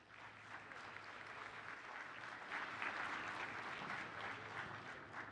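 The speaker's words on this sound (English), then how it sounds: "please join me in a round of applause for all of the West sponsors" Conference audience applauding event sponsors in San Diego, sustained clapping from a large crowd that swells slightly midway and holds steady, heard at a distance with no talking.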